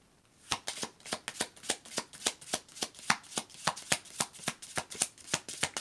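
A deck of oracle cards is shuffled in a quick, even run of about two dozen crisp riffling snaps, close and fairly quiet, with no voices.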